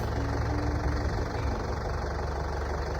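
A farm tractor engine idles and runs at a steady low throb during bale stacking, with a continuous knocking rumble and faint mechanical vibration, moderately close with no voices.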